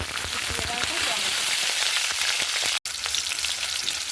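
Whole cumin and chopped tomato sizzle loudly in hot oil just after fish has been fried, a steady dense crackle with a brief dropout partway through.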